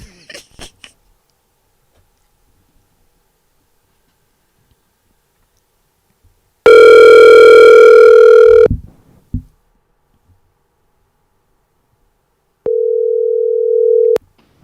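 A phone call being placed rings out through the line: a steady tone of about two seconds, a pause, then a second ring cut short, loud and clear with no talk over it.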